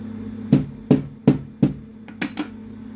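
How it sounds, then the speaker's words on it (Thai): Five sharp hammer strikes land on a sewing machine at a steady pace, each with a short ringing clank, followed by a couple of lighter taps. "เอา ค้อนเอาอะไรมาตอกบนจักร"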